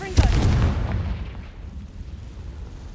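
Confringo fire spell explosion in the video game Hogwarts Legacy: a sharp blast with a deep rumbling boom that decays over a couple of seconds, loud and close.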